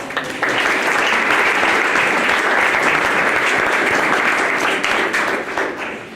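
A dense, steady round of applause fills a lecture hall at an art talk, loud and sustained for several seconds before tapering slightly at the end.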